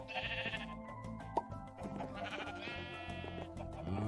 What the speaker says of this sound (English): I don't appreciate these invisible sheep.